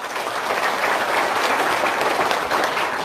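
Steady, dense applause from an audience, loud and continuous with no gaps throughout.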